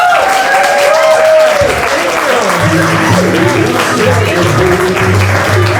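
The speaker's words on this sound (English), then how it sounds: "give me a round of applause for Jerry O'Connell" Studio audience on a talk show claps and cheers loudly, with a music sting and tones running under the applause throughout.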